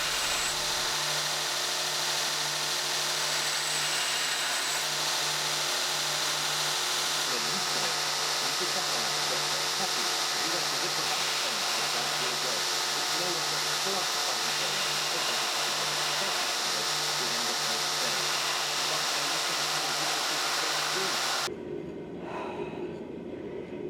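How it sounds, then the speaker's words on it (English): A Damascus knife blade is ground on a power grinder, a loud, steady whirring and rasping drone that runs close and continuous before cutting off near the end. "So on with the rest of the grinding."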